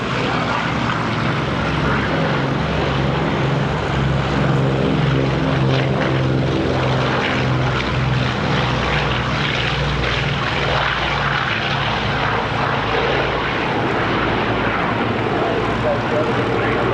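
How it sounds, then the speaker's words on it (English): Republic P-47M Thunderbolt, a large single piston-engine fighter, flying at the Duxford 1998 Flying Legends air show, with a loud, steady propeller drone and harmonic engine hum running throughout and talk over it. "it was the biggest and heaviest fighter with a single piston engine, the Republic P-47M Thunderbolt,"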